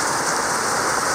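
Steady rain pours down during Typhoon Crising in July, a dense even hiss falling on a garden of succulents, continuous and fairly loud with no voices.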